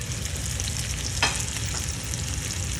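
Potato-crusted halibut fillet frying in oil in a pan over high heat, a continuous close hiss and sizzle with a brief scrape partway through, no talking.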